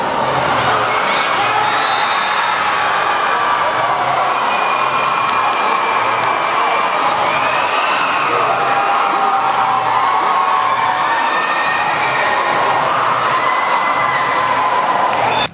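Supporters cheer and shout as the Casa Simão team takes the football title with a 5-1 win, a dense, loud crowd roar that holds steady for about fifteen seconds, with shrill voices rising above the mass.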